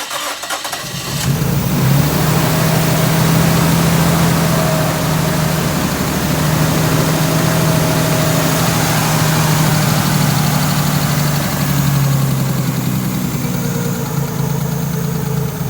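A Nissan R33 Skyline engine idles roughly after a brief start, a steady loud rumble with a wavering hum running throughout and no talk.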